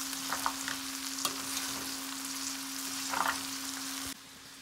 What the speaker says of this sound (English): So while my okra is cooking